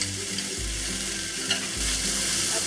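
Bamboo shoots stir-fry in a wok with garlic and onion for a Shanghai vegetarian rice cake dish, giving a steady close sizzle with scraping spatula strokes and no talking.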